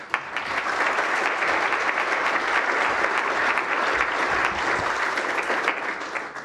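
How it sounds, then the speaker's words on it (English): Audience at a National Press Club address applauding to welcome a minister to the podium, sustained broad clapping from a large crowd, steady and loud throughout. "And now continue your applause as we join with me and welcome Minister Mark Butler to the podium."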